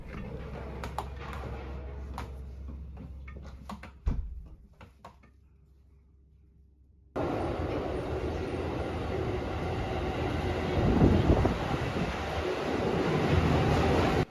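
Inside a train in Japan, faint ticking and clicks give way to a loud, steady rumble of the moving railcar with rushing wheel and track noise that swells toward the end.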